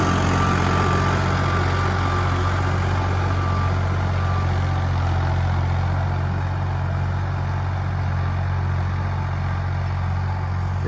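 A Mahindra 575 or Farmtrac 45 tractor engine runs steadily nearby, a loud low diesel rumble with a constant drone and no change in pace, heard alone for about eleven seconds.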